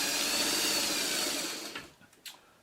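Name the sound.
sewing machine stitching a quilt block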